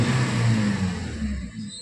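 A 2012 Toyota Etios Liva petrol engine revs up nearby, a loud mid-pitched whirring rise that eases off toward the end, with no talking.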